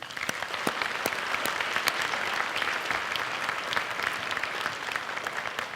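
A large audience applauds Sanderson Farms at a University of Mississippi Hall of Fame function, with dense, steady clapping that holds at an even level for the whole stretch and no voices on top.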